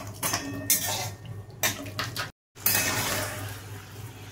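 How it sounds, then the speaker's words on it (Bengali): Peanuts fry in oil in a pan, making a dense, close rattling hiss with clinks against the metal, broken by a brief silent gap midway. "সেই জন্য একটুখানি বাদাম ভেজে নিই।"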